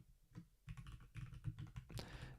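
Fast, close keyboard typing of a deploy command rattles along in an uneven burst of clicks, fairly quiet overall and with no voices over it.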